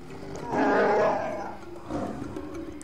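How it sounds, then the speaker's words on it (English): A Wookiee on Kashyyyk in the Star Wars game Knights of the Old Republic lets out a guttural roar followed by a shorter, weaker growl, with no voices over it. "Get used to the sound of Wookiee roars on Kashyyyk."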